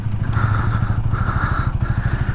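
A Honda Rebel 300 motorcycle's small engine runs loud and close in an open parking lot, a low pulsing throb with steady rapid firing and slight swells in pitch, with no voices.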